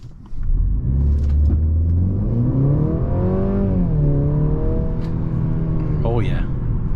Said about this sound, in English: I'm gonna go ahead and brake boost it and see how it accelerates from a dead stop.